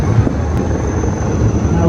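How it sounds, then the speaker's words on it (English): A Cheetah helicopter approaching during a combat aviators course passing-out parade, a steady, fairly loud rotor and engine drone with wind, mixed under public-address talk. "You can see one cheetah and one chasing helicopter approaching to execute the task."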